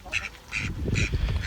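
Ducks kept in a pen quack in three short, loud bursts, with a low rumble of movement and background noise between the calls.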